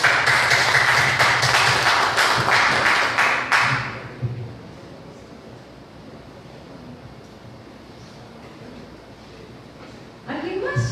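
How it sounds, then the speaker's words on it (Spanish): A congregation at a Bible class applauds, a loud burst of clapping for about four seconds that fades into quiet room noise, with a faint sound returning at the very end. "Le damos un aplauso al Señor."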